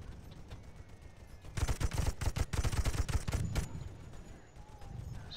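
Machine gun fire in the Toy Soldiers video game, a rapid burst of repeated shots lasting about two seconds over a low background rumble, fairly close and without talk.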